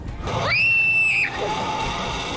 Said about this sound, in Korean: 행복한 비명이 온 마을에 쩌렁쩌렁 울립니다.